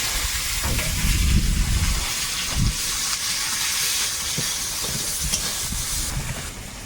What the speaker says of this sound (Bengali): তেলের মধ্যে একটু পাঁচ ফোড়ন তেজপাতা আর একটু পেঁয়াজ কুচি